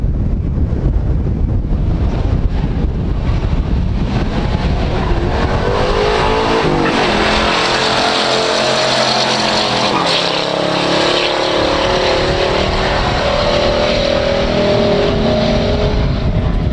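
A 1970 Dodge Challenger R/T 440 and a 1974 Firebird Trans Am run a stock drag race, engines roaring loud and continuous with heavy wind buffeting the microphone throughout.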